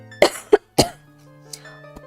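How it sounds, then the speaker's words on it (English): A few short, harsh coughs from one person with a parched throat, close to the microphone, followed by quieter throat noises and a faint background tone. "So you're gonna hear me cough, unfortunately,"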